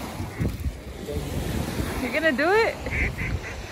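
A duck's short, harsh quacking call rings out midway over steady wind and lapping water at a cold Lake Tahoe shore, a few close squawks while a person speaks briefly.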